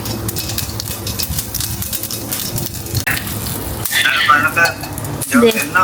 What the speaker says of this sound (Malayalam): ഇച്ചിരി ഒന്ന് കടുക് പൊട്ടിച്ച് അതൊന്ന് ഒലത്തിയെടുക്കാം.